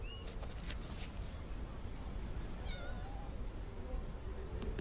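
Domestic cats meow in short calls over a steady noisy background with faint chirps, the cries fairly soft and scattered rather than continuous.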